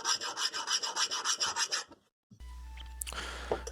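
A file scrapes rapidly back and forth over a hardened steel cleaver blade forged from leaf spring, in quick, even rasping strokes, bright and thin, stopping after a couple of seconds.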